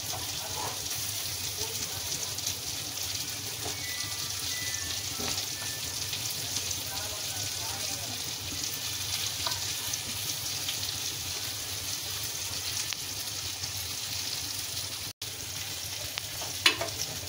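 Fish cooks in a boiling, spicy gravy in a pan, giving a long, steady bubbling hiss with faint scattered scrapes and clicks of stirring throughout.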